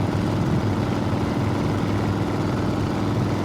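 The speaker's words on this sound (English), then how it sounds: "If you listen to the exhaust sound," A steady, throaty motorcycle exhaust drone in fourth gear runs without a break, low and even, with no spits or misfires and no talking.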